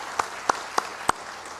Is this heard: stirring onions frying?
no